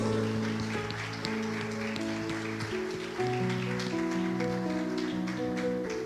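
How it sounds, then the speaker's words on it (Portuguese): A church congregation applauds, a steady wash of clapping from many hands running under sustained keyboard or organ music for several seconds. "Você pode aplaudir ao Senhor Jesus?"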